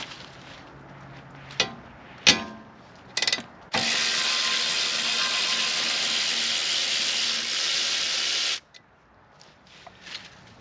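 Ratchet wrench clicking on a tight brake caliper bolt of a Honda Accord: a few short separate clicks, then one long continuous ratcheting run of several seconds, close and fairly loud, ending in brief scattered clicks.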